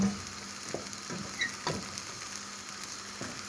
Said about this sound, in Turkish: Devamlı karıştırmamız gerekiyor yanmasın diye.